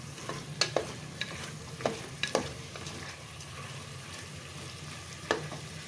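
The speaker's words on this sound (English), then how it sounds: "now that this chicken is frying" Chicken frying in a pan with a low steady sizzle, interrupted by a few sharp clinks of a utensil stirring.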